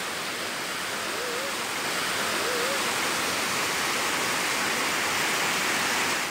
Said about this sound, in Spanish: Desde sus casas, muchas personas grababan el paso del torrente por sus barrios.